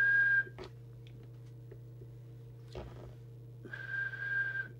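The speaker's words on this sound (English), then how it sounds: "we'll just set that up with the whistle test so that it doesn't exceed" Steady whistles are blown into the microphone of a Thunderpole T800 CB radio for a transmit deviation test. A short whistle opens, then comes a quiet stretch with a few clicks, then a second sustained whistle, all over a constant low hum.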